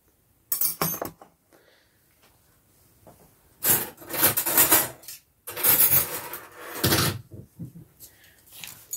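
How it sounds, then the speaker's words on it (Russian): Soviet stainless steel dishes, spoons and forks rattle and clink in several loud bursts of metallic clatter, separated by short quiet pauses. "Гремлю посудой."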